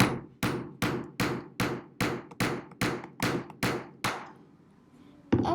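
A hammer drives a nail with ten evenly spaced, sharp ringing strikes, close and loud, each blow decaying quickly, followed by a pause and one final knock.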